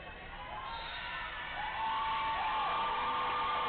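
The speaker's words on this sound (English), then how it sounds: "You hear the crowd out here giving Mow You Down some love." A roller derby crowd at a Bellingham All Stars versus Dark Sky Starlets game cheering and whooping, building from a broad roar to a louder, sustained swell of shouts and voices in a large indoor venue.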